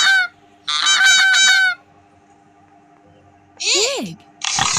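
A goose honks from an animal sound book in a series of loud, nasal honking bursts, one at the start and two more near the end, separated by quiet gaps.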